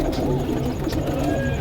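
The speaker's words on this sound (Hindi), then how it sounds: "फिरोजपुरी कबूतर है, नीली आंखों का कबूतर" A blue-eyed Ferozpuri pigeon with lace-patterned wings coos softly and steadily through a dense, noisy background with a faint murmur of activity.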